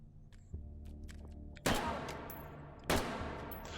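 Rifle gunfire in a video game, two sharp close shots spaced about a second apart, each with a decaying tail, after a few fainter clicks and thumps.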